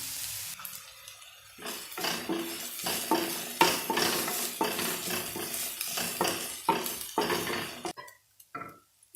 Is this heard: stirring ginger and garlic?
yes